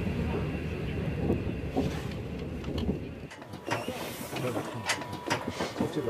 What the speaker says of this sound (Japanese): 列車は間もなくシルクロードのオアシス都市トルファンに到着する。